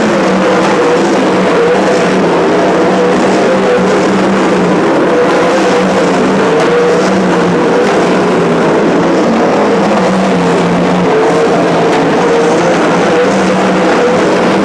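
Winged 360 sprint cars racing on the dirt oval at Petaluma Speedway, a loud continuous engine drone with wavering pitch as cars circle through the turns, no voices over it.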